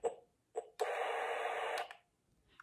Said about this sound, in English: And then it also has white noise sounds.